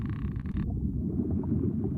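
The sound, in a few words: frogs croaking in the video game Cast n Chill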